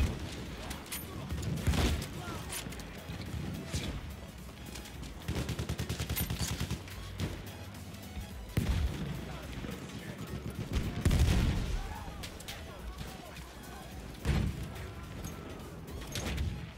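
An enemy machine gun fires in Battlefield 1 in sustained, rattling bursts mixed with heavier gunshots and battlefield noise, with voices faintly underneath.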